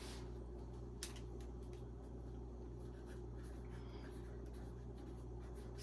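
Faint, continuous scratching of a pen moving across paper in a quiet room, with soft strokes and one small tap near the start.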